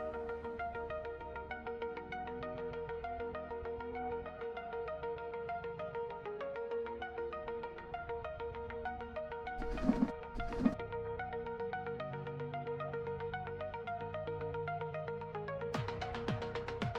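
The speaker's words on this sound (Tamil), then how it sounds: "ஐயோ, ஃபோன் எடு, ஃபோன் எடு, ஃபோன் எடு." A phone ringtone plays a steady repeating electronic melody that rings continuously at moderate level, with brief rustling noises partway through and near the end.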